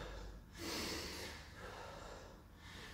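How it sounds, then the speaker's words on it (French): Heavy, breathy exhales and inhales during a fitness workout, two or three long airy breaths with a soft sniff, close and fairly quiet. "On respire."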